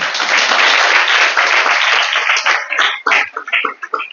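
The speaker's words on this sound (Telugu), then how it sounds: "చప్పట్లు కొట్టండి." Applause from a church congregation fills the space, a dense steady clapping that thins and breaks into scattered claps near the end.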